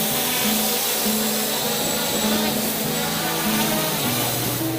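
An MJX Bugs 3 RC quadcopter flies close by, its motors giving a loud, continuous buzzing whine that rises and falls in pitch with throttle changes, alone without talk.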